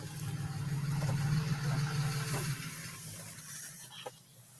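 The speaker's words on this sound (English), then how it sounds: "Turn the truck off because it's so loud" A truck engine runs loud and steady at close range, its low rumble holding for several seconds before easing off toward the end.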